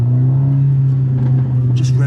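A high-mileage Mercedes A45 AMG engine revs up close by, a loud steady rumble rising slightly in pitch, with a voice faintly underneath.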